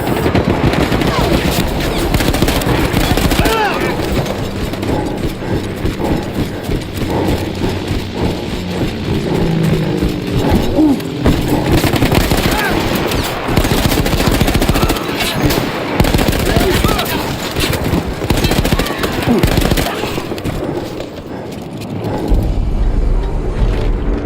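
A mounted machine gun in a World War I–themed Fortnite game fires in loud, sustained rapid bursts with mechanical clatter, continuous throughout, with faint talk in the background.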